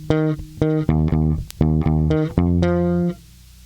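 Two bars of a song on bass guitar: a steady run of plucked, punchy notes with short gaps, played solo and close, the last note ringing out and fading.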